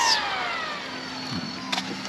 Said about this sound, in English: a kid's zipping down my sidewalk in a battery bike